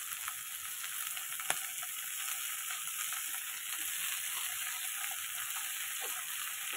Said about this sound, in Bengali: এবার দিয়ে দেবো শাক। এই যে শাক দিয়ে দিলাম।